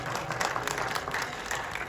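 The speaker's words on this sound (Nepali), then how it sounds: "एकपटक जोरदार ताली यो टिमको लागि" An audience at a film event cheers on the movie team with a short, continuous burst of clapping from many hands, dense and fairly close, with a faint crowd murmur underneath.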